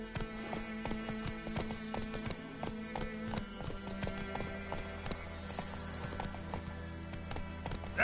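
Roach, a horse in The Witcher 3: Wild Hunt, gallops with steady, rapid clip-clop hoofbeats close by over a continuous game music bed, with a brief snort or whinny near the end.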